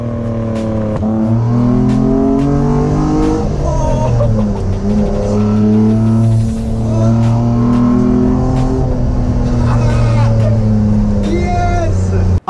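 A supercar driven on the road in France, its engine note rising and falling through strong accelerating pulls with gear changes, loud and close throughout, likely over music or background voices.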